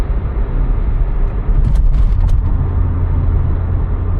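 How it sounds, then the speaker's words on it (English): A low, steady engine rumble from inside a moving 1991 Volkswagen Golf 2 with a 1.8-litre 90 hp engine and 3-speed automatic, continuous and muffled, with the drone easing slightly as the car slows. "when I let go, the engine is deaccelerating and it's a little bit of rumbling"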